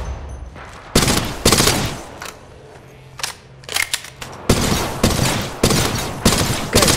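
Gunfire in the mobile shooter Apex Legends Mobile, with loud broadband shots crackling in repeated bursts and sharp single cracks, some near and some farther off, in a quick irregular rhythm with no talking.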